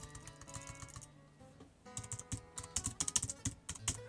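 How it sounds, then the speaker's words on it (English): Quick, uneven clatter of computer keys typed in bursts, with a brief pause and then faster tapping, close and fairly quiet. "I'm trying to type dead fast"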